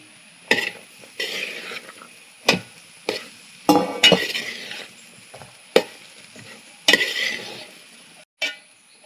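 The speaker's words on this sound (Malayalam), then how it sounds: "അതിലേക്ക് നമ്മൾ വേവിച്ച് വെച്ച നമ്മളെ നെയ്ച്ചോറ് ഇട്ട് കൊടുക്കാം" Cooked ghee rice is tipped into chickpea masala in a pan for a special biryani, giving repeated close stirring and scraping strokes with soft sizzling and light utensil clinks, no talking.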